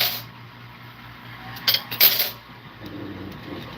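Coins tumble in a coin pusher machine, giving a short burst of metallic clinks and rattles about halfway through, with faint mechanical hum and background noise before and after.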